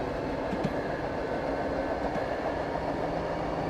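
Train running in the Taito-published railway game Railfan, a steady dense rumble of rolling stock with faint clicks, moderately loud and continuous throughout, no voices.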